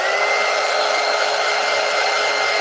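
A hair dryer blows steadily and loudly on wet acrylic paint, a constant close whoosh with no pauses and no voices.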